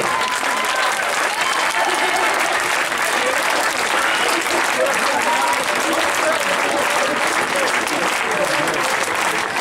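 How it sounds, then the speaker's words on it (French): Loud, sustained applause from a theatre audience after a Mamma Mia show, a dense, even roar of clapping that holds steady throughout, with crowd voices blended in. "j'aimerais que vous l'applaudissiez vraiment très très fort."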